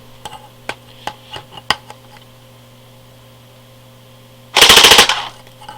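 A Cottonmouth AKS-74U airsoft gun fires over a chronograph. A few sharp clicks and ticks come first, then one short, loud full-auto burst of rapid cracks is heard close up over a steady background hum.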